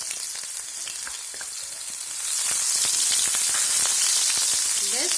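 Finely chopped onions fry in a pan on low flame while making spinach kadhi, giving a steady crackling sizzle that grows louder midway, with a stirring clatter near the end and no talk.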